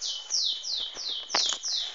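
A pet songbird sings indoors in a repeated series of bright, high descending whistled phrases, loud and close, with faint household sounds beneath and no talking.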